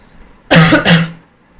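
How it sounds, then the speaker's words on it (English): A person coughs twice in quick succession, two harsh, forceful bursts close to the microphone, followed by silence. "Sorry, having a bad cough."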